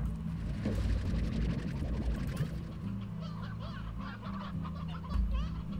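Chickens in the Slime Rancher video game give off a busy flurry of clucking and honking bird calls, close and fairly loud, layered over a steady game background.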